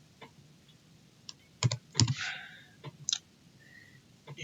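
Keys tapped on a computer keyboard while entering an encrypted home directory command in a terminal: scattered light clicks, then a few louder clustered keystrokes near the middle and a final pair, close and quiet, with no talk.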